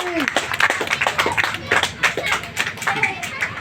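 Clapping breaks out for a national party official at a gathering at a district president's residential office, sharp uneven hand claps under overlapping voices and chatter.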